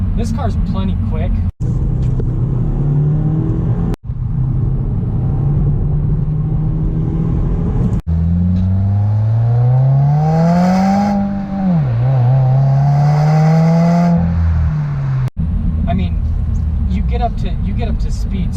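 A 2018 Subaru WRX turbo rally car accelerates hard. Its engine note climbs through several gears in close, loud rising sweeps, with short breaks at each shift.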